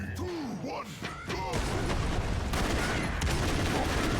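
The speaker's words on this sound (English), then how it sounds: "He has a chain gun that will actually give you recoil" A chain gun firing in a video game, a dense continuous burst of rapid shots after a few whooshing game effects, loud and close.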